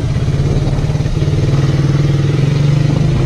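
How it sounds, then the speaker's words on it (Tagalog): A motorcycle engine runs steadily at a motorcycle repair shop, a loud close rhythmic chugging that firms up and pulses faster toward the end, with no talking over it. "Ito naman tayo sa paggawaan ng motor."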